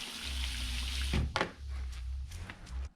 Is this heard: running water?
yes